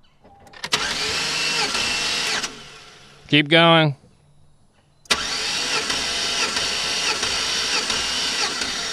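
Chevy truck engine cranked over by the starter during a compression test, a steady loud mechanical whirring run that stops, a short spoken word, then another long continuous crank.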